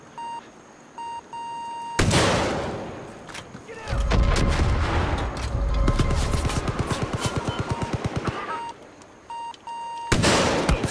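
Gunfire in Far Cry 5 comes as a rapid burst of repeated shots from about 4 to 8 seconds, loud and close over a bed of game noise, with a few sharp electronic beeps before and after.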